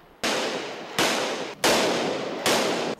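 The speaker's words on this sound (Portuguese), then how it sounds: "Os tiros disparados pela polícia durante a madrugada assustaram quem passava pela Tijuca" Four sharp, loud police gunshots at an uneven pace at night in Tijuca, Rio de Janeiro, each trailing off in a long, noisy echo; no voices.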